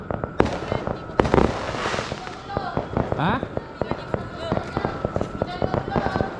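Rapid crackling bursts of firecrackers popping in quick irregular succession at night during Hari Raya Eve, loud and close, with a brief voice among them.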